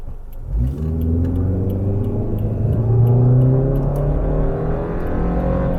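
A Subaru engine running on LPG with an enriched fuel mixture revs up under steady acceleration, a loud, continuous mid-pitched drone rising in pitch as the car pulls away, heard from inside the vehicle.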